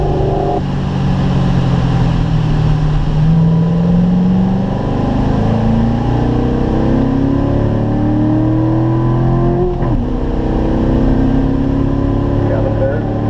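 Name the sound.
Corvette accelerating at full throttle on race track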